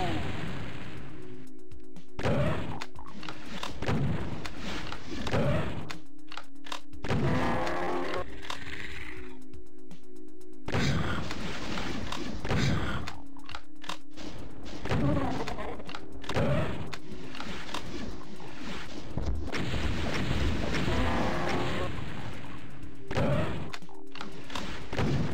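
Rocket launcher blasts in the Doom video game, a series of repeated booming explosions and thuds at irregular intervals, with a voice talking over parts of the action.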